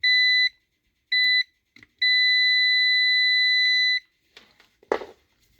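A continuity tester beeps while checking a brush on an electric motor: a short steady tone, a second short one, then a longer sustained beep, loud and close, followed by faint handling noises.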